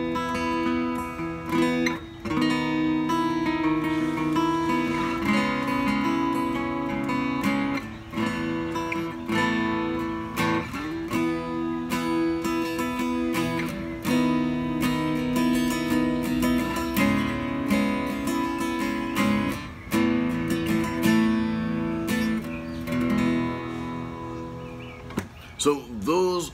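On a patio, an acoustic guitar runs through a riff of open chords in E, with steady strums and chord changes continuing for nearly half a minute, heard close and moderately quiet.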